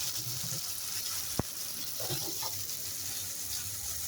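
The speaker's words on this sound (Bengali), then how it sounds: "লবণ দিয়ে আবার একটু ভালো করে নাড়াচাড়া দিয়ে দিতেছি" Salted curry in a pan gives off a constant moderate sizzle while being stirred, with one sharp utensil tap and a few soft, wet scraping stirs close by.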